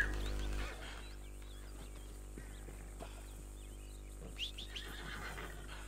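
A horse whinnies in Red Dead Redemption 2, a loud neigh opening the clip before fading into quieter game ambience with a few faint hoof or movement sounds.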